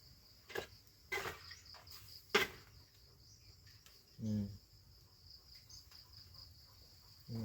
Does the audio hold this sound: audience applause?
no